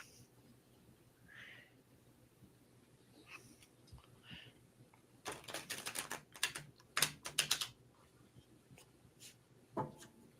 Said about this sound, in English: I love the sound of new cards being shuffled